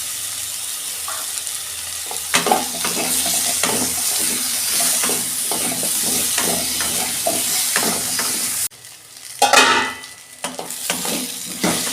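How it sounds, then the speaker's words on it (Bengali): Potatoes and eggplant sizzle steadily in hot oil in a pan, with repeated scraping stirs clattering throughout; the frying is close and loud, and near the end a brief pause gives way to a stronger burst of sizzling. "আমার ভাজা হয়ে গেছে আলু আর বেগুন"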